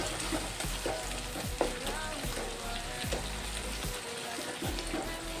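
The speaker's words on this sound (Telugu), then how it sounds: "చూసారు కదా, బాగా ఫ్రై అయిపోయింది టమాటా" Tomatoes frying in a pan for a paneer curry give a loud, continuous sizzle up close, with repeated scraping and stirring strokes of a spoon through the mix.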